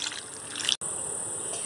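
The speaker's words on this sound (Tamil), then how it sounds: "இப்போ நம்ம தண்ணி ஊற்றி பாயில் பண்ணி எடுத்துடலாம்." Water poured into a pan of tomatoes and dried chillies for a tomato sauce, a steady hissing stream with one brief break before it carries on evenly.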